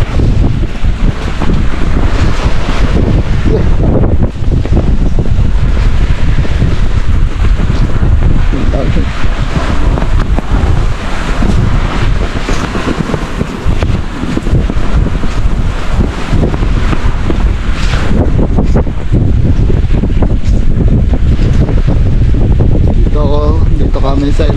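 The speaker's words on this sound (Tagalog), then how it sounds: "Lakas ng hangin" Strong wind roars steadily over the mic at sea at 2 a.m. during an overnight fishing trip in amihan season, with loud continuous gusting buffeting and voices talking faintly underneath.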